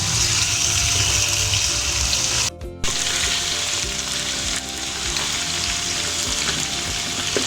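Chicken frying over low heat with garlic-ginger paste for white korma, a steady close sizzle that briefly drops out midway, then resumes evenly, with no speech.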